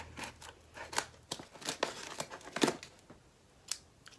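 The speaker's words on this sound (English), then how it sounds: "I'm just going to snap the tape off with my little baby scissors." Small scissors snip through tape on a small cardboard package in a series of short, crisp cuts and snaps at an uneven pace, close up, with no talking.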